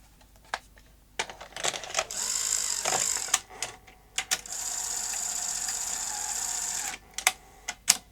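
Drive belt being fitted onto a Sony SuperBeta SL-HF900 Betamax VCR: close, quiet mechanical clicks and ratcheting, with two sustained whirring stretches of the loading mechanism running, the second several seconds long.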